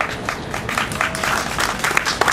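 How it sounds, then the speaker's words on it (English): Audience applause at a civic ceremony for a blues heritage marker, a loud, continuous crowd of many hands clapping with scattered sharper claps throughout. "please give them a round of applause."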